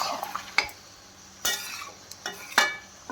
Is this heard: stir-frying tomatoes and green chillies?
yes